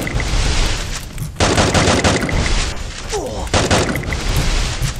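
Pistol gunfire in the mobile shooter Free Fire, loud rapid shots cracking in quick bursts with brief pauses, over a dense layer of game sounds.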